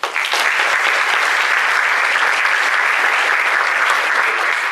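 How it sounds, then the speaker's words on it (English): An audience at a Miss Northwestern pageant and Outstanding Teen competition gives the contestants a loud, sustained round of applause, steady clapping filling the hall without any talking. "Please join me in a round of applause."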